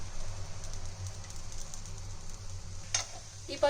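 Ivy gourd with ground masala sautés in a pan, a soft steady sizzle with a couple of sharper stirring scrapes toward the end of the brief moment.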